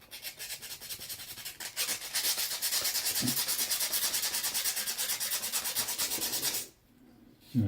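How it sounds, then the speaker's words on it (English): Sandpaper rubs rust off a metal surface, a close, steady rasping stroke repeated rapidly for several seconds, then a pause. "Just got to sand it off, get all that rust off of it."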